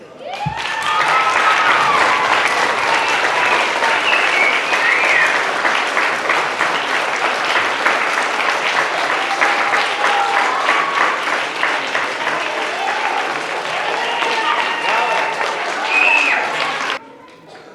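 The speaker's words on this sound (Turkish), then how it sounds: "Hepiniz lütfen ayağa kalkıp Erdem Dede'yi alkışlayınız" An audience claps at a zoo's 26th anniversary celebration, giving dense, sustained applause that holds strongly for about sixteen seconds before stopping abruptly, with faint crowd murmur underneath.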